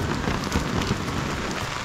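Heavy rain pours steadily in a dense, continuous hiss of drops hitting surfaces, loud and close with no voices.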